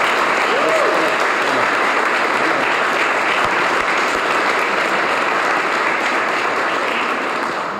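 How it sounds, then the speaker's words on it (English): An audience claps steadily and loudly at an EMS Academy event at Freedom House, dense sustained applause that fills the room and fades slightly toward the end. "can we give a round of applause for Luce"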